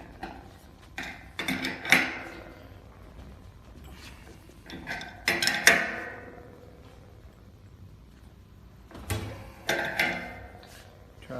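A 12-inch crescent wrench tightens a fitting on a soap tank, giving three separate bursts of close metallic clinks and clicks, with quiet gaps between them and no talking.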